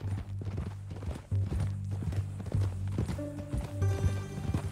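Horse hooves clip-clop steadily in the Red Dead Redemption 2 video game, a rhythmic run of close hoofbeats over a low, continuous background drone, with no talk.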